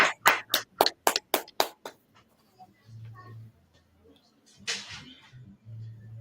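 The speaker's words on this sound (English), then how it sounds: "Clap it up for him as well." An audience at a gathering gives a short burst of about eight sharp, evenly spaced claps close by. The claps stop abruptly, and a voice then talks quietly.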